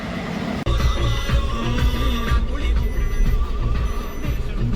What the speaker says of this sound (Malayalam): ആ ട്രെയിൻ പോയി കഴിഞ്ഞിട്ട് വേറൊരു ട്രെയിനും കൂടി വരുന്നുണ്ട്